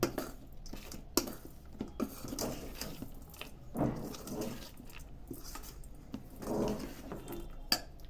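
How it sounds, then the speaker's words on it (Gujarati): A spoon clinks and scrapes against a pan while poha with lemon juice is mixed, the metallic taps and scrapes coming in irregular bursts at a fairly quiet, close level, with no talking. "પૌવા તૈયાર થઈ ગયા છે તેમાં લીંબુનો રસ એડ કરી મિક્સ કરી દેવું"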